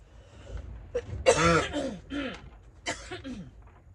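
A person coughs and clears their throat several times in short, harsh bursts, close and fairly loud, with brief gasps between.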